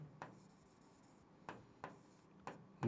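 Pen writing on paper, soft scratchy strokes in a few short bursts separated by quiet pauses, close and faint.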